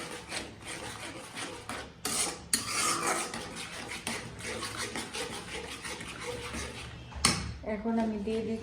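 Spice paste with garlic and ginger paste stirred and fried in a pan for an olive pickle, giving continuous scraping and rasping of a utensil against the pan with occasional clanks, close and fairly loud.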